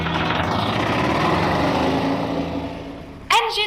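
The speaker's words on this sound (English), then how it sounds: "Engine running." Boat engine in the game I Expect You To Die running with a steady buzzing drone that fades slightly, followed by a short sharp clatter near the end.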